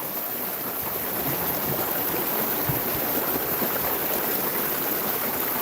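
A waterfall pours in a steady, broadband rush of falling water, constant and fairly loud from start to finish, with no voices.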